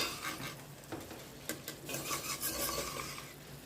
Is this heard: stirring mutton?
yes